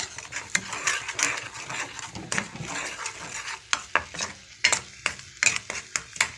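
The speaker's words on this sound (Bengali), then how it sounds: "ভালো করে মিশিয়ে নিচ্ছি" A spoon stirs sugar through a raw mango yogurt mixture in a bowl, giving repeated scraping strokes that turn into sharper rhythmic clacks toward the end, close and clear with no talking.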